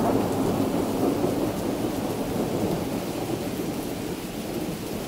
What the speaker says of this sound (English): There's a thunderstorm passing through